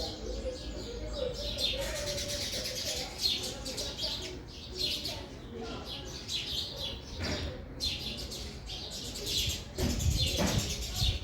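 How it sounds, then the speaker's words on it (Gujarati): Sparrows chirp in a busy courtyard, a dense stream of small high tweets overlapping throughout with a few louder close calls, under steady background noise and occasional voices. "મજા આવે છે ચકલીઓનો અવાજ સાંભળીને"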